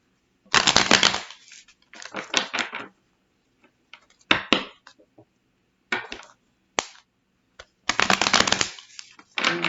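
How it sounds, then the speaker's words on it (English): A deck of cards being riffle-shuffled close up, several brisk bursts of flapping cards separated by short pauses. "One more shuffle."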